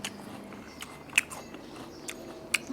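Crunchy candied fruit from 7-Eleven bitten into, giving a few sharp, close crunches spaced through a quiet stretch with no talking.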